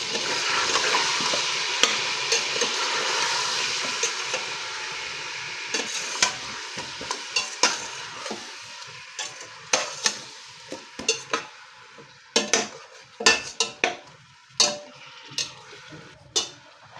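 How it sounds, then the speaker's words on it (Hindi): Mutton pieces fry in oil with garlic powder and salt in a pot, a steady sizzle fading as a spoon stirs and scrapes with sharp, repeated clinks against the metal, no talk. "ये मैंने लिया है 1 टेबल स्पून लहसुन पाउडर, ये ऐड कर लेंगे और ऑयल में थोड़ा सा भून लेंगे।"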